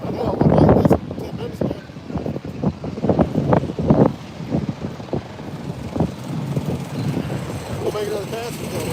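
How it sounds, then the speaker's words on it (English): Strong gusty wind at a race track buffets the microphone with a loud rumbling roar throughout, while people talk over it. "this wind is crazy"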